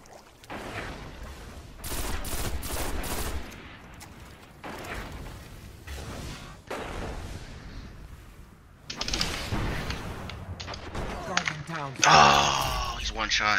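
Rocket fire and gunfire in a fast online video game match, with bursts of shots and blasts coming in waves over several seconds under excited players' voices.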